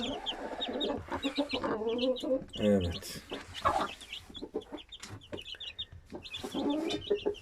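Chicks peep and hens cluck in a busy mix close by, with a brief spoken word partway through and scattered farmyard noise.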